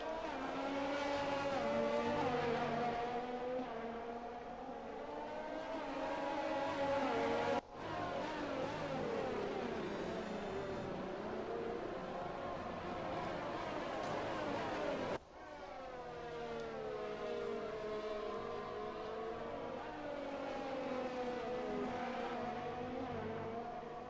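A Red Bull Formula 1 car races in wet conditions in the F1 2020 video game, its high-pitched engine whine climbing and falling through gear changes in a loud, continuous drone, broken by two abrupt cuts.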